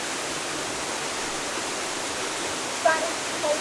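Cold stream or waterfall water rushes steadily as a continuous broadband wash, with a couple of faint brief squeaks near the end.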